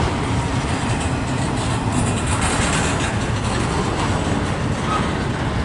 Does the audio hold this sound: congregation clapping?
no